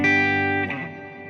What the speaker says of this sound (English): let's go find that deep space reverb